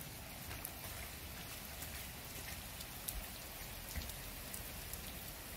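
Steady rain falls outdoors during a homemade weather-station rainfall measurement, a dense, even patter of drops with occasional louder nearby splats, continuous throughout and with no voices.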